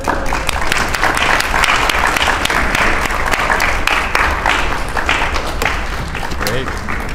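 Steady audience applause fills a lecture hall as Dr. John Westerdahl is welcomed for a talk on vegetarian diets and nutritional science, with dense clapping holding at an even level throughout.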